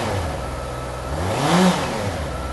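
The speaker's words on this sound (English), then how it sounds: "I'm just gonna rev it up a little bit so you can see." A 2020 Honda CBR650R motorcycle engine blips up from idle into a brief rising rev and falls back, close and fairly loud with no talking.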